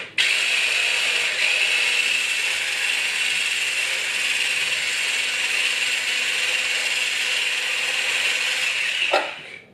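An electric hand mixer beating cake batter of sugar and oil runs steadily and loudly at close range for nearly ten seconds, with a whirring motor tone and a brief clatter as it stops.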